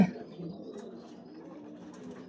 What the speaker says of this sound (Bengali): কিছু কবুতর আসলে ওই যে ডাকতেছে